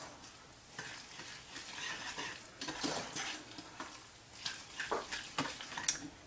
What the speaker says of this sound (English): We're going to slowly whisk in the sugar.